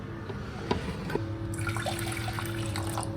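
Hot water pours into a pot for Maggi Big Curry noodles, a steady close splashing stream over a low continuous hum, with no talking.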